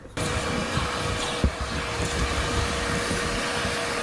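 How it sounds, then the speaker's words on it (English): Vacuum cleaner running inside a Volkswagen Jetta, switching on abruptly then holding a steady, loud whooshing drone with a faint whine and a brief knock partway through. "I'm gonna use this chance to vacuum up all this mess that I made the other day,"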